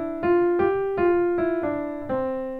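Piano notes played in a slurred, blended way, about six soft overlapping strikes at a steady pace with each tone running into the next, close and clear with no voices.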